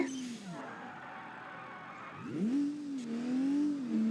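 An ETK 1 Series car in a video game, its engine revving in rising and falling sweeps, pausing briefly, then roaring up again louder and holding high at the end.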